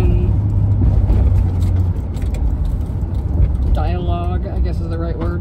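Car engine hum and road rumble from inside a moving vehicle, a steady low drone throughout, with a person talking over it in the second half.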